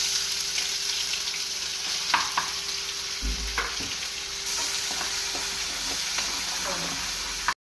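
Garlic paste sizzles in hot oil with mustard seeds and curry leaves, a steady close frying hiss broken by a few stirring scrapes and brief pops.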